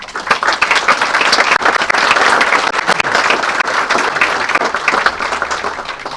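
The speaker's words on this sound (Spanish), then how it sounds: "para quien pido un cariñoso aplauso" Loud, close applause from an audience at a book launch for a collection of tailoring stories greets a writer and literary workshop leader. Dense individual claps blend into steady clapping that holds for several seconds before easing slightly.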